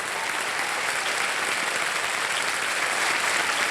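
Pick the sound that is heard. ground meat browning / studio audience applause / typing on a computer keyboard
studio audience applause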